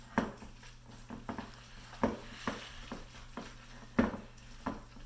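Pimiento cheese ingredients being mixed in a bowl: a series of soft scraping, sticky stirring strokes come roughly every half second at close range over a faint steady hum.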